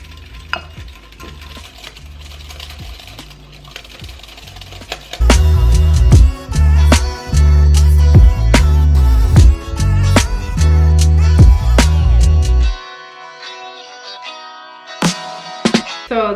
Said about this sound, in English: I'm just gonna start whisking this all in.